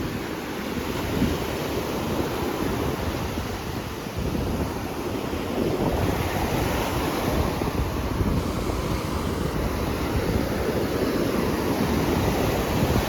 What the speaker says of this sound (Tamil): அலை அடிச்சுட்டு வந்தது.